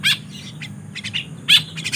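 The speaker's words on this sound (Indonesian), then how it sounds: "Dan burung kekep babi ini dikasih sama kawan." A kekep babi bird kept in captivity gives short, sharp chirps in scattered bursts, close and fairly bright, over a quiet low background hum.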